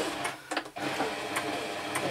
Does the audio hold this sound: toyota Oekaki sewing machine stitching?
yes